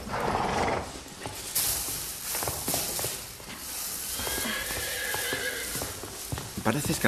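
Horses in a video game whinny and stamp, with irregular hoof clops and shuffling throughout and a neigh in the middle, fairly close and at moderate volume.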